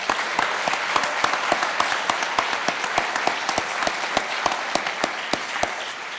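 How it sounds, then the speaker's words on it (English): A summit audience applauds a contributor, steady group clapping with a few sharp, distinct hand claps punctuating the wash in a loose rhythm, holding at an even level throughout. "So thank you so much, Marty, and a round of applause for Marty."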